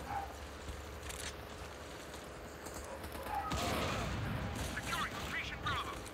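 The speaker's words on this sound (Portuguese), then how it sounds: "Olha a granada comendo," Grenade blasts in the Modern Combat 4 shooter game: a dense, continuous rumble of explosions and gunfire that swells louder partway through, with someone talking over the battle.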